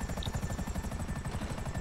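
A helicopter in Grand Theft Auto V chops with a steady, rapid rotor thump and a constant engine whine, close and continuous.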